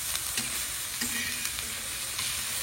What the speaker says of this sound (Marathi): तर सगळे भुजून घेतलं आणि मस्त खरपूस